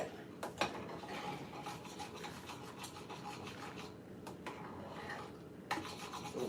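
Grits popping and bubbling in a pot as they cook, a steady close-up crackle of small bursts with a few sharper pops, no voices over it.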